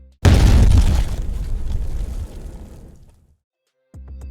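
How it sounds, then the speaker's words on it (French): Explosion sound effect used as the impact hit in an FL Studio trap beat, a loud booming blast that decays over about three seconds, followed by silence and then the beat's low thumps starting again. "on retrouve plusieurs fois ce bruit d'explosion qui sert d'impact"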